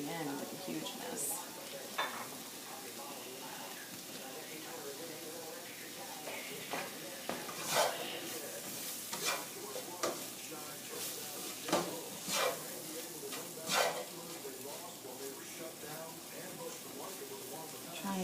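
Mushrooms sizzle quietly in a frying pan for chicken Marsala, a soft continuous frying hiss broken by scattered clinks and scrapes of stirring, with a person talking at times.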